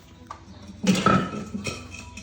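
A vase clatters and knocks on a hard surface in a garage during an oil change: a short burst of clinking and rattling, close and moderately loud, then quickly settling.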